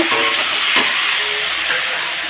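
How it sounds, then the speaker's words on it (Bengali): A spice paste of ginger, radhuni, cumin and chili sizzles and hisses loudly in a hot pan as it is fried for a fish curry, with a steady close frying noise and faint stirring. "এটা দিয়ে ভালোভাবে মশলাটা দিয়ে কষিয়ে নেব"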